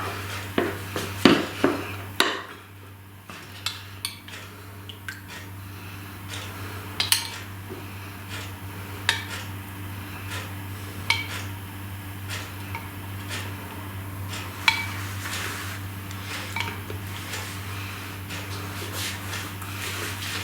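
A spoon clinks and taps lightly against dessert glasses as chocolate milk is spooned in, a scattered series of small, sharp ticks over a quiet kitchen hum.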